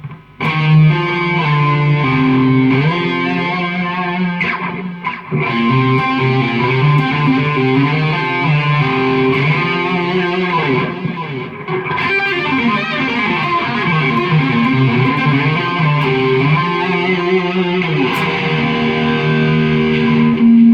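A distorted electric guitar plays a continuous, sustained solo with bends and slides, loud and up close, with effects coloring the tone throughout.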